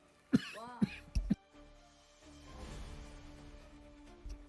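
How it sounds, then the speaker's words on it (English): Several sharp coughs in quick succession, close and fairly loud, followed by quieter rustling and faint background noise. "That was a little bit rough on my throat. Made me cough."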